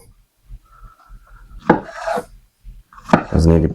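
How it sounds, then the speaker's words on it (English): A knife strikes a wooden board in a few uneven, sharp chops through bananas with their skins, with quiet scraping and rubbing between the cuts. "Once again, rough chopping the bananas."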